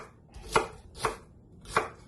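A knife chops cabbage for Jamaican run down, landing three distinct, close cuts spaced about half a second apart against a quiet background.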